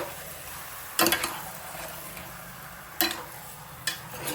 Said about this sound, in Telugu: మంచిగా కలుపుకొని ఈ ఆయిల్ ఆనియన్స్ మొత్తం అన్ని ముక్కలకు మిక్స్ అయ్యేటట్టుగా మంచిగా కలుపుకుందాము